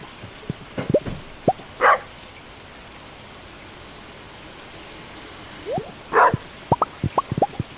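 A dog in the Stardew Valley video game gives short clustered barks, with soft plopping game effects around them and quiet gaps between.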